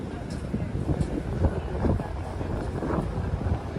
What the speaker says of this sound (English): Now it's starting to get a little bit windy and we don't have the microphone